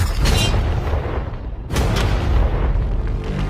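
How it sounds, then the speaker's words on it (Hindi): A tank cannon fires at cash stacked behind shipping containers, giving a loud, heavy boom with a long rumbling tail, followed by a second blast about halfway through. "ये 5 टैंक्स पैसों पर निशाना लगाकर 20 राउंड फायर करने वाले हैं"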